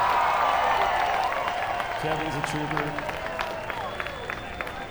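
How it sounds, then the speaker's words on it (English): Crowd at an X Games skateboarding event applauding and cheering, a broad roar that fades gradually while commentators talk over it. "He's hearing the applause from the crowd."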